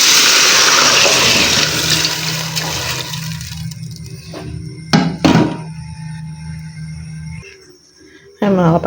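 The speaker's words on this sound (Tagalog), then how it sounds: "lagyan na rin natin ng tubig." Water rushes and splashes into a cooking pot holding chicken and glutinous rice for a couple of seconds, followed by a few sharp clanks and knocks of cookware nearby.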